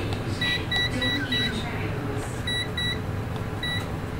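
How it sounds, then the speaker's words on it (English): Short, high electronic beeps from an Aktakom LCR meter's buttons sound one after another in an uneven series, clear over a low background hum. "every button that you push makes a little noise or beep"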